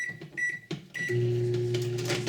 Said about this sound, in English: So we want to microwave it for about 45 seconds on high.